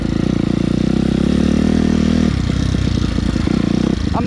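A Suzuki RMZ250 dirt bike engine revs loudly and close for a wheelie hole shot, a steady buzzing drone that breaks into choppy, stuttering bursts as the throttle changes.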